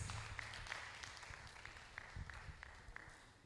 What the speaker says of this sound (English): A round of applause again for them as they take their seats.